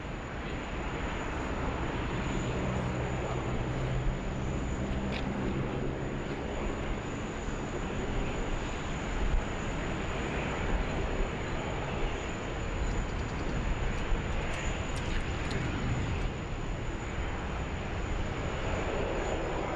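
An Air Calin airliner from New Caledonia at Sydney Airport during a thunderstorm: a broad, steady jet roar lasting the whole stretch, loud and unbroken, with wind and rain-like hiss mixed in.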